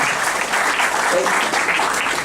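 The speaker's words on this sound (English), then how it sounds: "we have to launch the clap for him" An audience claps in a dense, sustained burst of applause, close and loud throughout the short stretch.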